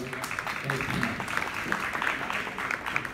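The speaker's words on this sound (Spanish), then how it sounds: "quiero que le demos un fuerte aplauso a, Susi Mora" Audience applause for presenter Susi Mora at a Huawei Nova Plus tech event: dense, steady clapping from a crowd lasting a few seconds, with voices mixed in.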